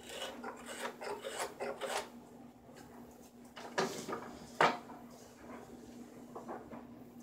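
Dry mulberry wood being cut and carved into a kuksa, a close rasping, scraping sound in uneven strokes with a few sharper knocks, fairly quiet and without speech.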